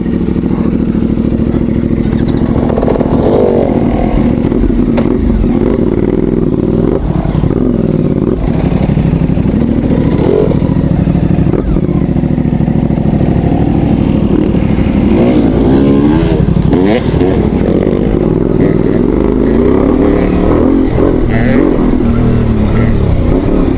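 A CFMOTO 450MT enduro motorcycle rides off-road, its engine loud and close throughout, revving and surging continuously with clattering over rough ground.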